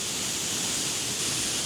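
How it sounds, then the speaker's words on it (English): A waterfall on a river in Serra do Gerês, Portugal, roars as an even, dense wash of falling water, close and constant throughout with no talking. "same river, but another waterfall this time, and this is quite a different waterfall"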